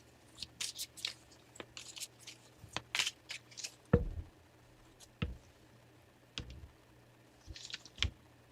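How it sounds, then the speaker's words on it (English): Tarot cards are shuffled softly in a series of quick riffles and light slaps, close and quiet, with irregular pauses and no talking. "Try not to be loud with my shuffling."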